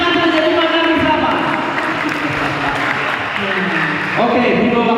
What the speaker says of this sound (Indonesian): terima kasih tepuk tangan dulu buat ketua